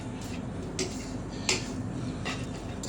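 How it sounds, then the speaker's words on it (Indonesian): Fried rice vermicelli stirred in a pan with a utensil: light taps and scrapes against the metal over a steady sizzling hiss, close and fairly quiet. "Kita aduk-aduk untuk bihunnya agar merata."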